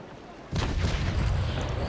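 A carronade broadside from a sailing warship in the naval combat game Naval Action: one sudden loud blast, then a rumbling rolling volley of overlapping cannon reports that continues to the end.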